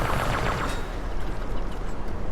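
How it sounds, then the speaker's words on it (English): Dense, continuous burst of rapid video game gunfire fills the clip, loud and crackling, with no voices. "Marty, can you hear the birds over the gunfire?"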